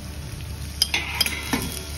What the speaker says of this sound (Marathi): थोडे आलू झाले की त्यानंतर कांदे टाकायचे।